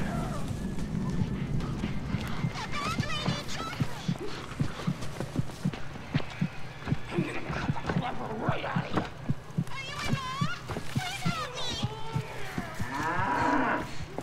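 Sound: cow mooing

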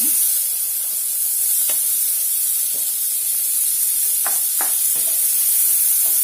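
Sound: finely chopped onions and green chillies frying in oil

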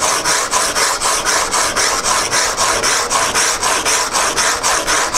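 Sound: sharpening a chisel on 150 grit abrasive

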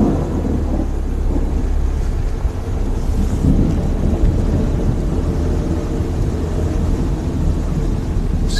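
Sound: heavy rain coming down harder

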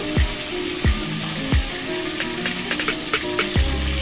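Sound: fish frying in oil

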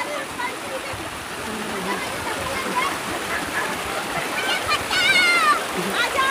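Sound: waterfall and fast stream in the hills near Safale

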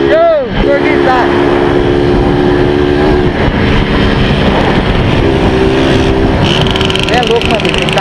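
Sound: car engine revving

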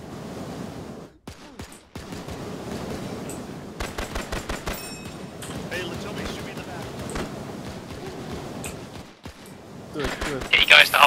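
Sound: gunfire in Task Force Athena World War II video game

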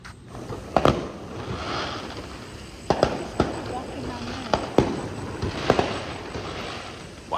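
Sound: fireworks near golf course

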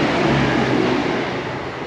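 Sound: passing train

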